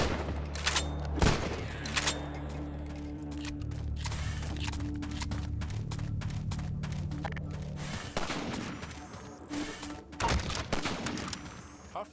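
Gunfire from snipers and Combine soldiers in the video game Half-Life 2: sharp shots and bursts crack near the start and end, and rapid clustered fire and impacts fill the middle over a steady low drone.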